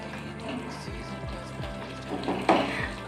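Food for korai shutir kochuri, a green pea filling, fries in a pan over a raised flame while being stirred, soft sizzling under a few quiet rhythmic scraping strokes, fairly faint and close.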